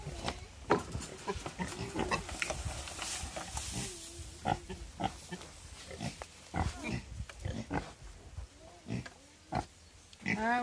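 Pigs in corrals on a farm grunt and squeal repeatedly and close by, loud irregular bursts over a noisy barnyard background.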